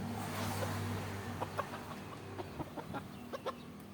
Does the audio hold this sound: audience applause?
no